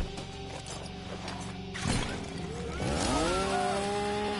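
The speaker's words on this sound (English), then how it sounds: "Well, that chainsaw's going absolutely somewhere." Leatherface's chainsaw revving in Mortal Kombat XL, a buzzing mechanical whine that surges and climbs in pitch over game sounds, loud and continuous with a sharp burst midway.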